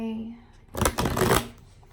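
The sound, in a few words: shuffling tarot cards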